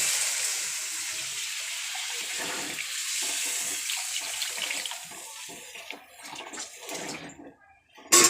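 Water pours into a pot of chicken and potato curry in a steady broad rush that thins and softens toward the end, with a brief clatter at the close.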